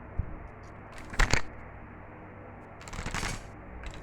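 Pieces of pomfret are set into a clay pot while a mango fish curry is being prepared, giving two brief, close, soft clattering handling bursts with quiet pauses between and no talk.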